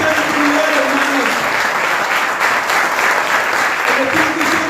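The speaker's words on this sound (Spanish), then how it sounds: "¿quién le da un fuerte aplauso al Señor?" A church congregation bursts into sustained applause at a special worship meeting, a dense steady roar of many hands clapping throughout with voices mixed in.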